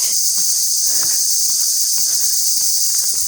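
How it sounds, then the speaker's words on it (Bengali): Crickets chirp in a village jackfruit orchard, a dense high-pitched trill running steadily throughout, with faint footsteps and rustles nearby. "এখানে প্রচুর ঝিঝি পোকা।"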